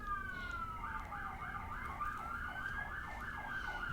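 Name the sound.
emergency vehicle siren passing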